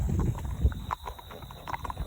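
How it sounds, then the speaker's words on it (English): Shod horses walk on an asphalt road, their shoes clicking in a steady clip-clop rhythm close by, with steady insect or outdoor hiss in the background. "I'm going to take the horses on the road for a minute, just so y'all can hear their shoes clicking"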